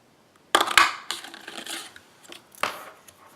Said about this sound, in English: So this is the 1 1/2 inch circle punch.